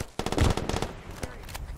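Gunfire in the Arma 3 S.O.G. Prairie Fire video game, a quick cluster of sharp, loud shots that fade into scattered cracks, with a voice briefly audible.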